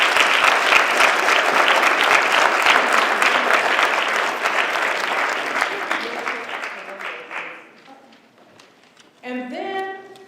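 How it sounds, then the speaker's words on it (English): An audience at a We Care For DC town hall meeting claps for Paula, a loud dense burst of applause that holds steady before thinning into scattered claps and fading out, with a voice briefly starting up at the end. "I want you to give her a round of applause."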